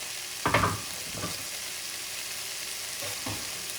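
Chopped garlic sizzling in a stew base is stirred with a few scraping strokes, one louder near the start and softer ones later, over a steady low frying hiss.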